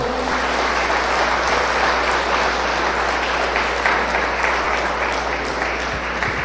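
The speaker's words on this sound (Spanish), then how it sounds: "Dale un fuerte aplauso al Señor" A church congregation gives a loud round of applause at the close of a prayer, dense continuous clapping that fills the room steadily from start to finish.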